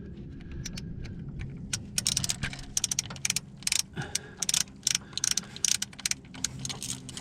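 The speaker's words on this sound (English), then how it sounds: "this is a mini chain hoist" A mini chain hoist being loosened gives off a run of quick metallic rattles and chain clinks, close and fairly quiet, in irregular bursts.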